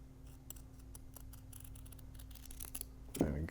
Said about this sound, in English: I'm going to cut that out with my fabric scissors